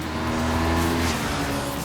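Honda VFR 800 motorcycle accelerating hard, a loud steady engine roar with rising drone and whine filling the whole moment, no voices.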